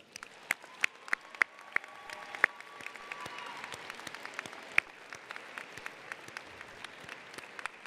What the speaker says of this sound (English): can all the students please applaud the audience?